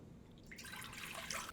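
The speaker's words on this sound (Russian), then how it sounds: "Берем какую-нибудь кастрюлю без крышки, но желательно с толстым дном. Туда сразу добавляем воду," Water poured from above into a thick-bottomed saucepan with no lid, a splashing, trickling rush that starts about halfway through and continues steadily, close and fairly quiet, with no talking.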